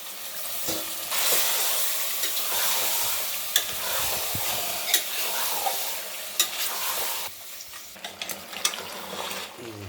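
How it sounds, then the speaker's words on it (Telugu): Mutton frying in hot oil in a pot for mutton curry, a steady loud sizzle with a spoon scraping and stirring the meat, occasional clinks against the pan. "మటన్ మంచిగా ఉడుకుతూ ఉంది."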